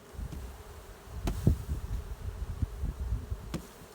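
A low, steady buzz of many honeybees from a hive hums close by, with a few soft knocks and taps breaking through it as bees are tapped off.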